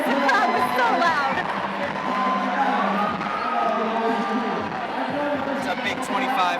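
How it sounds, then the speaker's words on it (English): A loud, dense indoor crowd at a USA Climbing national cup competition cheers and roars continuously, with an announcer talking over the noise. "I can't even hear myself right now because the crowd was so loud."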